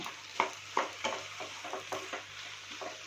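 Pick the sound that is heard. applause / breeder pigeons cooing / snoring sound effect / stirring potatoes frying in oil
stirring potatoes frying in oil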